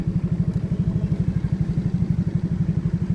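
A motorcycle engine putters steadily as it rides through a residential subdivision, a close, low, rhythmic pulsing that stays even and loud without revving.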